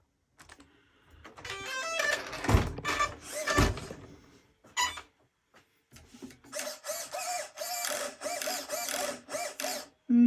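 The steering servo on a Losi Hammer Rey U4 4x4 RC truck whirs in a series of short, fast, repeated bursts, close and fairly loud with brief pauses between movements.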